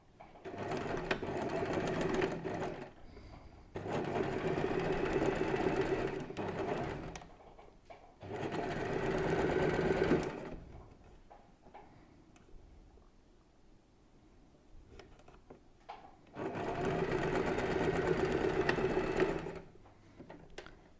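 A sewing machine stitches a double shirt yoke in four bursts of rapid, steady whirring, each lasting a few seconds with quiet gaps between, close and clear.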